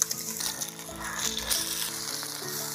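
Mutton pieces frying in a pan of hot oil with curry leaves, cinnamon, cardamom, mace and mint, a steady close sizzle with a low harmonic hum and occasional stirring clatter throughout.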